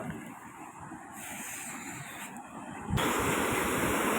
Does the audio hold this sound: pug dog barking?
no